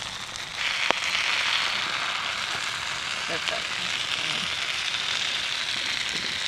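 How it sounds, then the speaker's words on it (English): A steak sizzles on a hot plate with a steady crackling hiss and a few sharp clinks of the plate, heard faintly and close up. "The sizzle. Is it the steak or the sizzle?"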